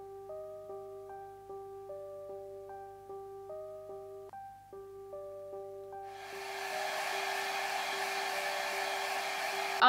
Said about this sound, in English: After blow drying my things, they're pretty damn dry